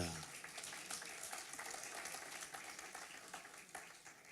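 A church congregation applauding in acclaim of Jesus, a dense, steady, fairly faint patter of many hands clapping that continues throughout.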